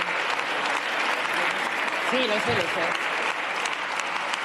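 An audience applauds continuously, a dense wash of clapping that holds steady for the whole stretch, with a voice briefly speaking over it.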